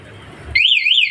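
A Honda Vario 125 motorcycle alarm starts abruptly after a quiet moment and sounds loud and close as a warbling electronic siren sweeping up and down.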